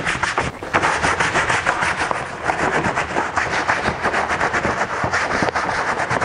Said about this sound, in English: Let's take our brush, scrub the heck out of them.